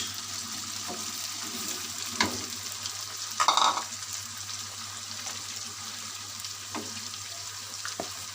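Green chillies go into a sizzling Peshawari charsi chicken karahi, with a steady quiet fry, a few scraping stirs and one louder sizzling burst near the middle.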